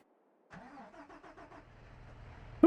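A tractor engine in Farming Simulator 22 cranks over with a few rhythmic turns, then catches and settles into a low rumbling idle, close and clear with no talk.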